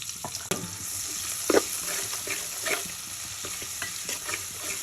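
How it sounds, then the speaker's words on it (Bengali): Onions frying on a stove until crisp and browned like beresta, a loud continuous sizzle with intermittent spatula stirring and scraping close by. "পেঁয়াজটাকে বেরেস্তার মতো করে আর কি ভেজে নিলাম।"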